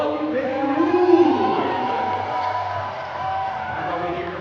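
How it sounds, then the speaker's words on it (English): A basketball crowd at a Riyadi Beirut semi-final game roars in an arena. Its cheering and whoops rise and fall across a big, echoing space. An announcer's amplified voice talks over the noise. "Make some noise for you guys that are cheering for Riyadi Beirut."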